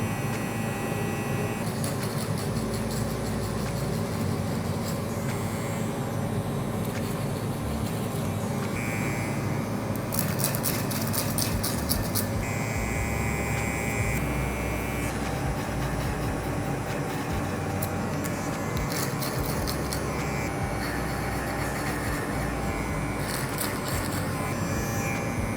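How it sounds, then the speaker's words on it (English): Electric hair clippers run over a comb during a skin fade haircut, a steady close motor buzz throughout with brief changes in pitch as the blade works through the hair. "My clipper over comb."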